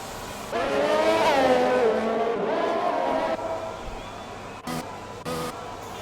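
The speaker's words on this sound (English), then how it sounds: "First few cars now going out on track." Race cars heading out on track in a racing video game, with a near engine revving up and then falling away, a few brief sharp bursts near the end, and a faint voice talking underneath.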